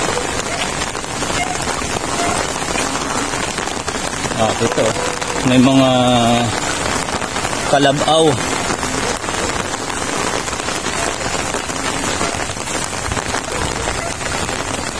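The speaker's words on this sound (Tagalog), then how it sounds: "Medyo hindi naman na ganong kalakas yung ulan, pero hindi tumitigil." Steady, moderate rain keeps falling without pause during Typhoon Enteng in Marikina City, an even hiss from start to finish, while someone talks briefly over it.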